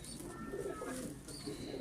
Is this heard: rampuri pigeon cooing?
yes